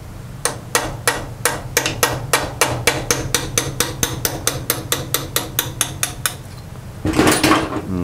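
Repeated hammer blows knock a second roll pin out of an old machine, about two dozen crisp ringing metal strikes in a steady quickening rhythm, followed by a short burst of rattling noise at the end, close up and without speech.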